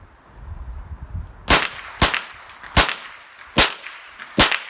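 Ruger 10/22 M1 Carbine rifle firing CCI Mini Mag and Blazer rounds at a range: five sharp, loud cracks evenly spaced about a second apart, with quiet shuffling between shots.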